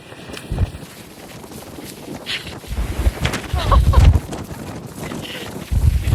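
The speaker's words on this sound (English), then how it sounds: "And as you can see, very windy." Strong wind buffets the microphone in rough, roaring gusts that swell and ease throughout, loud and close.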